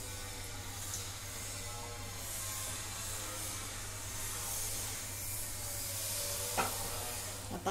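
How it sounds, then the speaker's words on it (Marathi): Wheat flour mathri frying in hot oil give a steady, close, unbroken sizzling hiss throughout, with a faint clink near the end. "आता अशा सर्व मी तळून घेते"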